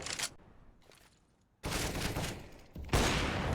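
Gunfire in Counter-Strike on the Mirage map: a quick burst of shots, then quieter scattered sounds, followed by two louder volleys of rapid fire, fairly faint overall and without talk.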